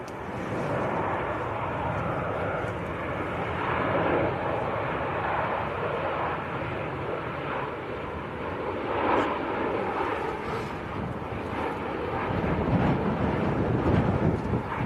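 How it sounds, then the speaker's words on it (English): A TUI airliner on final approach into Manchester Airport sends a steady, moderately loud engine roar across the field, with some wind buffeting at the microphone and a swell in volume near the end. "This looks like a TUI on finals."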